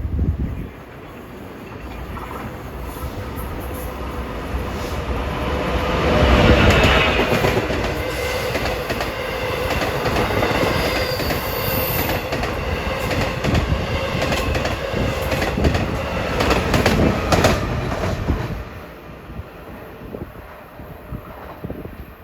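An LIRR commuter train bound for Port Jefferson passes through Woodside station, its rumble swelling as it approaches, then a long run of clickety-clack wheel beats and faint squeals before it fades out.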